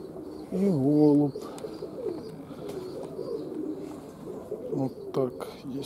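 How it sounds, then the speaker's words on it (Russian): A pigeon coos in a few rising and falling notes near the start, then softer bird sounds follow amid background noise while a person talks. "голубь"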